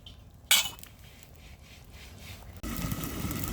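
A metal lid is set onto a cooking pot of chicken curry with potatoes, giving a sharp clink early on, followed by quiet rattling and then a louder steady cooking hiss.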